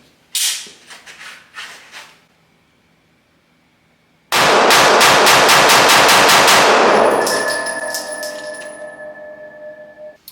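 Ruger RXM pistol with a ported barrel fires a rapid string of loud, close shots, each crack ringing with metallic clangs, after a few isolated knocks and a short quiet gap.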